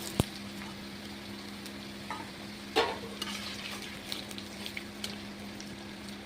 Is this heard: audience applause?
no